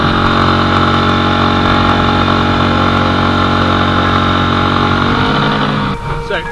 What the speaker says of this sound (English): So let's power up one more time.